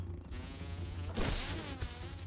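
A mosquito in the survival video game Grounded gives a thin, whining buzz that runs continuously and swells louder midway before easing off.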